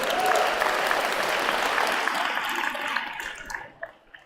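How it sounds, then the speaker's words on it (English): Audience applause fills a presentation room, a dense steady round of clapping that holds for about three seconds, then thins out and fades to a few last scattered claps. "Round of applause."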